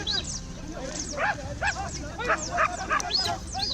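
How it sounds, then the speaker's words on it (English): Hunting dogs bark repeatedly across a field during a wild boar hunt, with a run of yelping, excited barks at middle distance over a rough background that may include footsteps. "The sound of footsteps mingles with the barking of dogs across the field"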